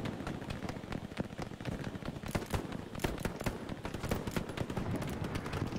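Dense, crackling battlefield gunfire from the Omaha Beach map in the video game Hell Let Loose, with many overlapping distant shots and bursts forming a continuous rattle, no clear voices.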